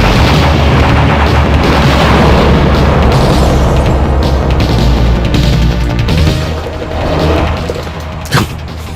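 Powered-up missiles explode in a Neo Geo shoot-em-up arcade game, a loud, dense barrage of overlapping booms and bursts rumbling continuously, easing slightly near the end with a sharp pop.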